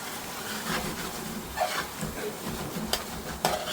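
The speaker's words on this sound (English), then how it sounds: "Let's just give it a good stir." Bombay potatoes are stirred in a thickening, reducing sauce where the oil is starting to split, giving soft bubbling sizzle with a few scraping clicks of the spoon against the pan, close and without talk.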